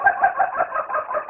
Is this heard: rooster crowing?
yes